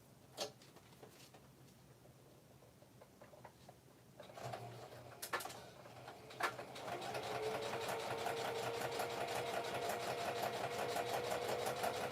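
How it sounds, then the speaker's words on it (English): A sewing machine stitches fabric at home, starting with scattered clicks and handling noises before the needle motor gets going, then running in a continuous, rapid, rhythmic whir that grows steadier and louder toward the end. "I'll be over here sewing."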